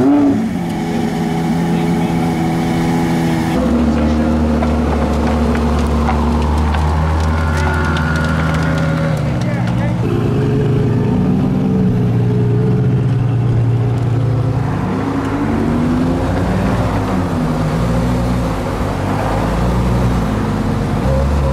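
V12 supercars, including a Ferrari Competizione and a TDF, rev and pull away one after another in a car park, their engine notes loud and sustained, with voices talking over them.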